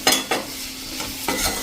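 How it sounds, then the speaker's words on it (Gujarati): Cabbage and potato sabzi frying in a pan as it is stirred, with a steady sizzle broken by a few sharp scraping strokes near the start and end, close and alone. "અને એને પણ આપણે આ રીતે મિક્સ કરી દેશું"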